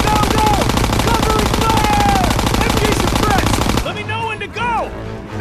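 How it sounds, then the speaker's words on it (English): Sustained machine gun fire in the video game Call of Duty WWII during a battle for Hill 493, a loud rapid continuous rattle that stops abruptly, leaving scattered shots and battlefield noise with soldiers shouting. "Keep pressure on that MG!"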